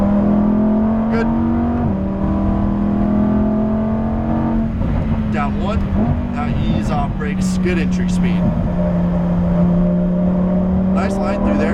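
A 2018 Lamborghini Huracan Performante engine drones loudly on a race track, pitch holding steady then stepping as gears change and revs shift, with a coach talking over it throughout.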